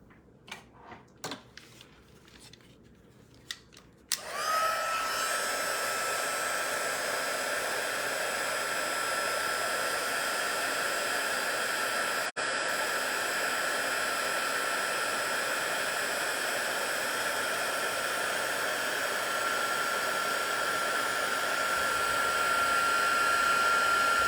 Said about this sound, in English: Now I'm gonna make some noise by heating this up.